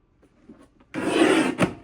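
Paper trimmer slicing through cardstock for a card base: a single loud, dry scraping cut lasting under a second after a few faint taps and shuffles, ending with a short sharp snap.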